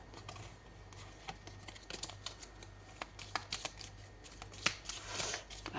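Tarot cards shuffled by hand in a quiet room, a run of soft riffling flutters and crisp snaps with irregular taps, close and fairly faint, no voices.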